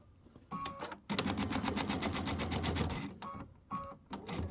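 A sewing machine stitches down the seam of a Kimberbell Let It Snow quilted pillow top, running in short bursts and one longer steady run of rapid needle strokes, with a backstitch, close and alone.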